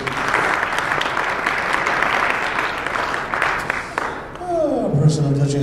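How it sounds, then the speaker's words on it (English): Audience applause at a comedy hypnotist's fundraiser show in Center, North Dakota, steady and dense for about four seconds, then fading as a voice begins speaking over the tail. "Give her a round of applause for being a good sport."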